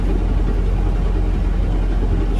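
Narrowboat engine running close and loud beneath the deck while the boat cruises in winter, a steady, deep, chugging rumble that stays continuous and even throughout with no voices.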